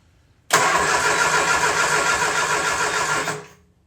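The rebuilt engine of a Triumph Spitfire cranks on the starter with no ignition. A steady, rhythmic churning begins abruptly, runs for about three seconds and then stops, with no voices over it.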